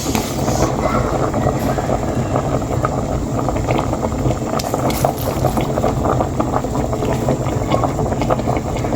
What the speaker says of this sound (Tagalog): Ayan po, kanina pa po nakakulo.